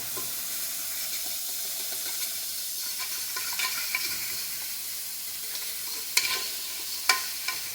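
Tomato sauce in a pan is stirred with a spoon, giving a soft, steady scraping and bubbling close by, broken by a couple of sharp clinks against the pan near the end; no one speaks.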